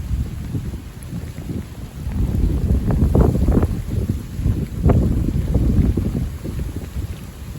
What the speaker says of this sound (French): Littéralement un coup de vent littéralement là.